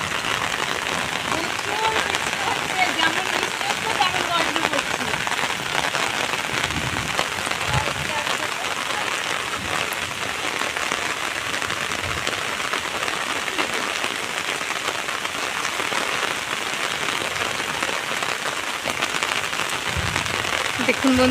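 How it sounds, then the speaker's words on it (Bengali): Heavy rain pours down steadily in a rural village on a wet day, making a dense, continuous hiss and patter on surfaces that holds at an even level throughout, with no voices. "প্রচুর বৃষ্টি হচ্ছে এখানে"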